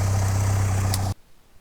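A 16-valve engine in a Mk2 VW Golf GTI idles steadily and close, a low rumbling hum that cuts off abruptly partway through, suspected of running rich with the coil lead pulled.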